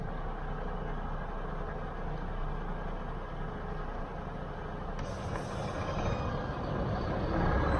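A truck passes on a road in Spain, a loud, steady broadband rumble with no voices, heard during a motorcycle ride.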